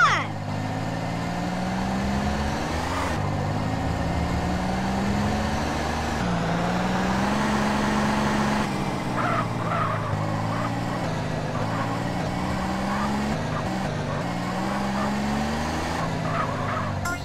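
A taxi being driven in GTA San Andreas: a steady, droning car engine that rises and falls in pitch as it accelerates and shifts, loud and continuous, with brief voices over the top.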